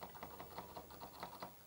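Typing on the keyboard of an old home computer, likely an Apple II-era machine with a faulty U key: a steady run of close, light key clicks at an even rhythm, with no voices.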